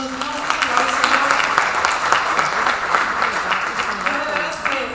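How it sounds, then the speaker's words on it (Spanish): A congregation at a Christian conference applauds in praise, a sustained crowd clapping at moderate loudness, with a voice speaking over it. "un aplauso a Dios, ¿no? Un aplauso."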